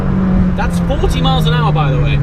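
Ferrari 488 Pista engine at low road speed around 40 mph, a steady low drone running throughout with someone talking over it, snowy conditions outside.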